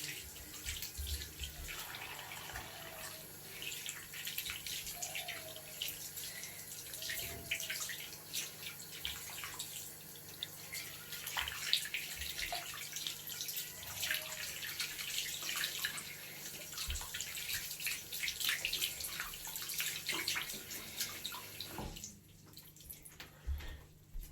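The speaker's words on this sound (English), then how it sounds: "Then you wash your hands." Hands are washed under a running tap, with a steady stream of water splashing into a sink close by and faint rubbing and dripping sounds, ending abruptly as the flow stops.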